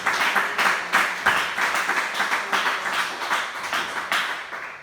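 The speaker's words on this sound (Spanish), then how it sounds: "Un aplauso bien grande para el Señor en esta preciosa tarde" A church congregation at a Spanish-language service claps in a loose, uneven rhythm, with distinct individual claps standing out from the group applause at close range.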